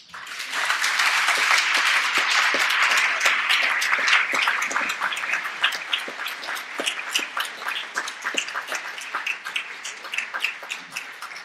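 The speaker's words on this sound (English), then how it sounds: "That was a pretty warm round of applause, wasn't it?" A panel-event audience claps warmly, loud and dense at first, then thinning into scattered claps as it slowly fades.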